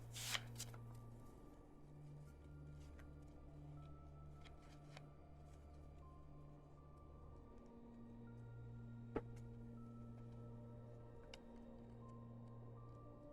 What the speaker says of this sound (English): draw it and shuffle it into the major, or the conspiracy deck